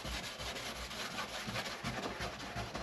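A cloth rubs Lucas Slick Mist detailing spray over a fiberglass motorcycle body for a CB750, giving a quiet, steady scrubbing sound in repeated back-and-forth strokes with no talking.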